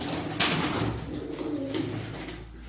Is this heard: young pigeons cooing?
yes